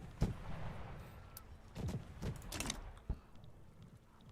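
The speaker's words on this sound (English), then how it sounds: "Our siege artillery, it's going to win the day" Siege artillery in the strategy game Victoria 3 fires in scattered booms: a sharp blast, then a cluster of thuds and another crack, set against a low ambient rumble.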